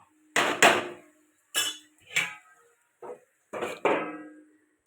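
Shrimp being stirred in a pan with spinach and onion stalks and then covered with a lid, a few separate sharp metallic knocks and clatters, close and spaced apart.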